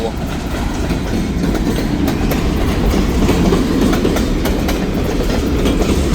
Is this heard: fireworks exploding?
no